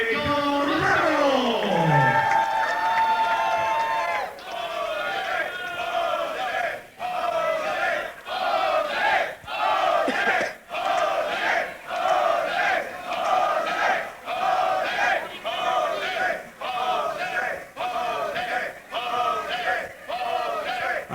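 An indoor independent wrestling crowd chants a name in a repeated rhythmic two-beat pattern, loud and sustained for many cycles after an opening cheer, with brief dips between chants and no clear talk over it.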